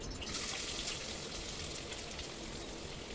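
Onion sizzling in a spoonful of hot oil while a drumstick curry is cooked at home: a steady, dense hiss and crackle runs unbroken and fairly loud throughout, with no voices.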